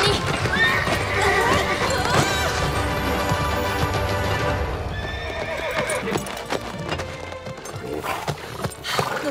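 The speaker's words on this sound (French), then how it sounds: "Jason, au galop! Suis Johnny!" Horse whinnying and hooves clip-clopping at a gallop in a Playmobil cartoon, hoofbeats running steadily under a busy music bed with a sharp neigh rising near the start and again midway.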